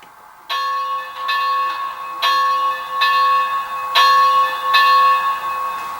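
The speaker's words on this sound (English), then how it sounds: "Number 1 is the bell." A Bachmann Spectrum 2-8-0 HO scale model steam locomotive's digital sound bell rings six times in a steady, even rhythm, each clear metallic strike ringing on over a soft hiss.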